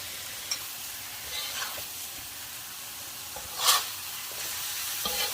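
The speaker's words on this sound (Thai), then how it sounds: "เดี๋ยวรอให้กุ้งสุกนิดนึงนะคะ แล้วก็ใส่สตอลงไปค่ะ" Fresh shrimp stir-fry in a hot pan for a Thai sator bean and minced pork dish, with a steady close sizzle and occasional scrapes of stirring.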